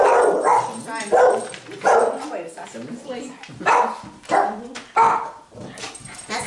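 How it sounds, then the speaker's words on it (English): Dog barking in a home during a conversation, several sharp barks and yips repeating in uneven bursts, close and loud, mixed with people talking. "That's the benefit of the dogs. They tell you if somebody's coming."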